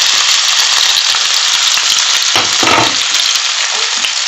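Onion and Scotch bonnet pepper fry loudly in a pan, a dense, close sizzle with crackling and a brief stir or scrape midway.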